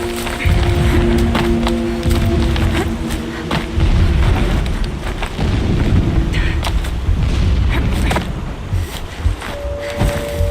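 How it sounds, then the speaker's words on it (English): Distant explosions in the video game Horizon: Zero Dawn: heavy booming thuds and rumbling blasts over a constant roar, with a low droning hum running underneath. "Explosions in the distance."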